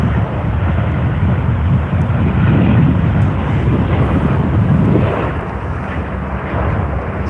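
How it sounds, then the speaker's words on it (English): A Virgin Australia Boeing 737-800 lands on a parallel runway at night, a steady loud low roar of jet engines and rushing air that swells slightly and then eases, heard from a distance with wind buffeting the microphone. "Got a Virgin Australia 737-800 landing in on the parallel runway"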